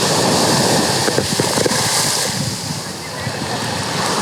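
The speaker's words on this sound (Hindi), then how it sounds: "लहरें देखो, बहुत ज़बरदस्त लहरें आ रही हैं" Strong ocean surf at Nha Trang beach in Vietnam, a steady loud wash of breaking waves with wind buffeting the microphone, continuous throughout without talk.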